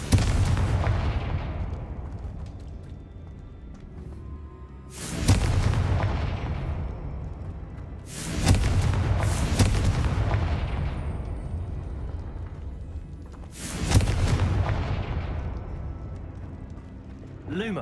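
Confringo spell blasts in the Hogwarts Legacy video game: four sharp, booming explosions spaced a few seconds apart, each a sudden loud burst followed by a long fading rumble.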